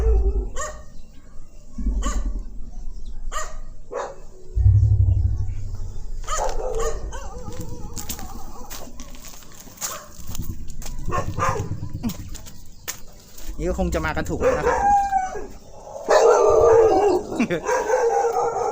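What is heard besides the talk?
dogs barking and howling along the way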